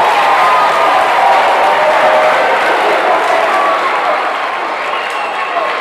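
A packed gym crowd at a high school boys basketball game roars and cheers in a loud, continuous wash of noise, sustained throughout and easing only slightly toward the end.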